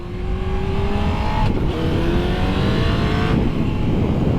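Honda CBR929RR sport motorcycle ridden after fitting a new chain and sprocket, its engine droning steadily and rising in pitch as it revs, with a brief dip around a gear change, close and fairly loud throughout.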